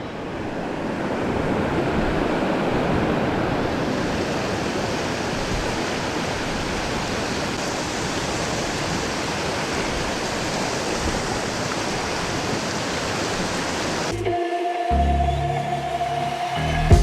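Rushing river water, heard while wading across a river in Assam, makes a steady loud broadband roar for about fourteen seconds before it shifts abruptly to quieter, different sounds near the end.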